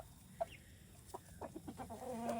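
Chickens in a garden clucking in a loose series of short, close calls, with soft rustling in between and no voices.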